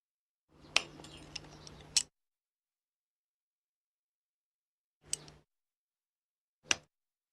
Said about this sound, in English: Bend the wire ends away from the knot and cut them off neatly.